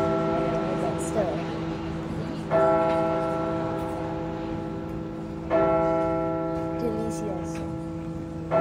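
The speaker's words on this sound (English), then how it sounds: "I love hearing the church bells that ring every hour." Church bells ring the hour in slow, resonant strikes on the Italian Riviera, each toll swelling and fading into a sustained hum, with faint background murmur beneath.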